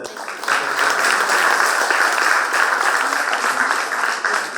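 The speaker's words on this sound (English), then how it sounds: "Can we just offer a round of applause, please?" Audience at a She Leads campaign event in Chennai honouring young women achievers breaks into applause, a dense, even wash of clapping that swells quickly and holds steady for several seconds.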